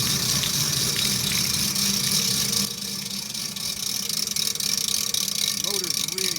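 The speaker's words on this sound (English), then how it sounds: "The motor's really struggling." Washing machine motor straining to spin a drum full of water, a loud rumbling churn with sloshing that drops slightly midway, close and continuous, and a voice is heard briefly near the end.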